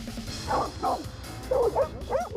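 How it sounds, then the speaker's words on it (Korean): An excited dog barks aggressively at other dogs, two quick bursts of sharp barks followed by two more, close and fairly loud with faint whiny yips between. "끊임없이 짖으며 달려들기 시작하는데요."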